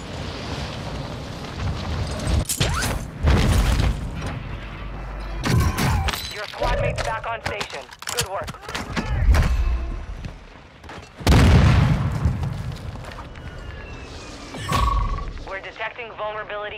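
Video game combat with heavy booming explosions and scattered gunshots, irregular and loud, mixed with game voices and effects and occasional talk.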